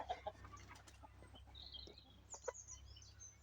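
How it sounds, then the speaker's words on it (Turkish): A chicken clucks softly a few times, faint and brief against a quiet low background hum. "Tavuğumuz burada."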